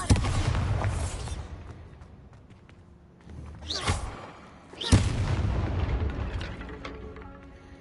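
Bombarda spell blasts in Hogwarts Legacy go off as deep, heavy booms, with a roaring explosion at the start and two more sharp blasts a few seconds apart, each trailing into a rumbling fade.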